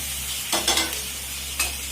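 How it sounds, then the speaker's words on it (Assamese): Onion, ginger, garlic and cashews frying in a pan with a steady close sizzle, broken by a few brief stirring scrapes. "পিঁয়াজ, আদা, নহৰু আৰু কাজু এইখিনি লাহে লাহে ৰঙা হ'বলৈ লৈছে"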